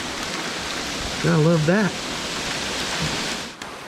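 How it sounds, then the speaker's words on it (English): Steady rain falling just after sleet gives a constant broadband hiss throughout, with a man's brief remark partway through. "So I come running out here to get a good look at all the sleet coming down, and all of a sudden it turned to rain."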